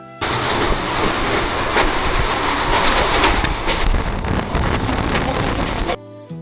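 The 12364 Haldibari–Kolkata Intercity Express runs from New Jalpaiguri toward Kolkata, heard from on board as a loud, steady rumble with rail clatter and rushing wind. The sound cuts off abruptly near the end.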